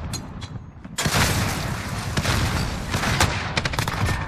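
A grenade explodes in a Modern Warfare search-and-destroy match, a sudden loud blast followed by a dense rumbling wash of gunfire and booms.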